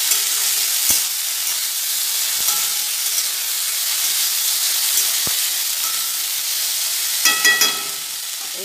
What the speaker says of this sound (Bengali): কালো জিরে শুকনো লঙ্কা ফোড়ন দিয়ে আলুগুলো দিয়ে হলুদ দিয়ে দিয়েছি।